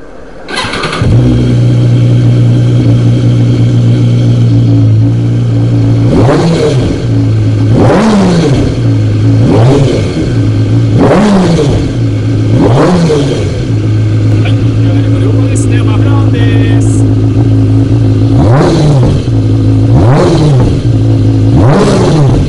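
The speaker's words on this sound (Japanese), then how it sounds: "ではエンジンの方ですね、始動していきます。" A BMW S1000RR superbike with an Akrapovic exhaust starts up and settles into a steady idle, then gets a series of sharp throttle blips that rise and fall in quick succession, loud and close. A voice talks quietly underneath.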